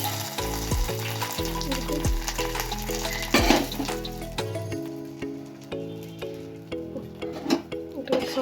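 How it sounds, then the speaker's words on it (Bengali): Garlic and cumin tempering in hot mustard oil give off a steady, close sizzle and hiss, broken by occasional stirring clatter and a soft voice in the background. "এখন আমি এটাকে একটুখানি এখন ফোড়ন দেবো, এটাকে একটু ভালো করে একটু ফ্রাই হয়ে যাক"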